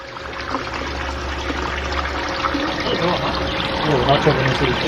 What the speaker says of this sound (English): And I hear more water running.